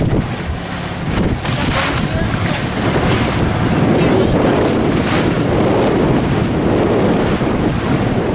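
A boat crosses open sea in the Andaman Islands between Ross and North Bay islands. Loud, constant engine and hull rumble mixes with rushing waves and heavy wind buffeting the microphone.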